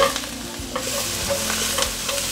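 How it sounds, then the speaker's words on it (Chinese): Sweet potato and shiitake mushroom are stir-fried in a wok: a dense, steady sizzle, close and loud, with quick repeated scraping tosses of a spatula throughout. "现在放入地瓜，快速翻炒，大约略炒一下。"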